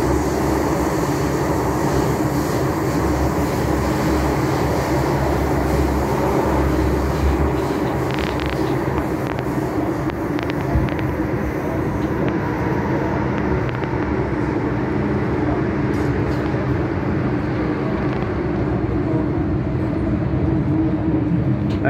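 A Hong Kong MTR K-stock train runs steadily through a tunnel between stations toward Quarry Bay, giving a loud, continuous low rumble with wheel and track noise throughout and a few brief higher squeals partway through.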